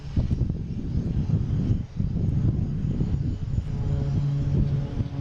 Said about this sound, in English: So we got a Cape Air taking off.